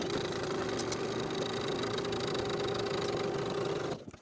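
A sewing machine stitching the long raw edges of maxi dress straps, a close, steady mechanical whir with a constant motor hum that runs evenly before stopping abruptly near the end.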